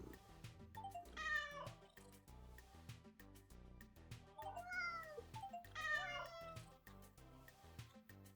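Cat meowing in the video game Hidden Cats in Berlin, three drawn-out, rising and falling meows spread over several seconds above quiet background game music, with no talking.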